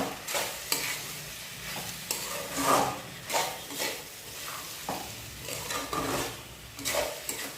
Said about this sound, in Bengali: ধনেপাতা দিয়ে ভালো করে আলতোভাবে এভাবে নেড়ে ছেড়ে দিতে হবে।